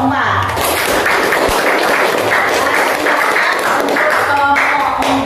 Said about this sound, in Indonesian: Kita beri aplaus lagi untuk kelompok 4.